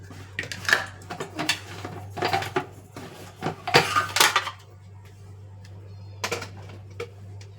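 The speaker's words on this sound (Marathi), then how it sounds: "आता मिक्सर भांडं लावते." Small steel mixer-grinder jar being set onto the base in a home kitchen, a series of close, sharp metallic clinks and clacks in irregular bursts, then a pause and a couple more knocks, with no talk.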